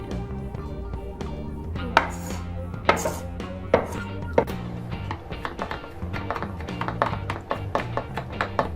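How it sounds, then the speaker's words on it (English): Garlic is finely chopped with a knife on a cutting board in rapid, steady taps that speed into a dense, close rhythm, with light background kitchen noise and no talking. "The garlic should be finely chopped and smaller than a pea."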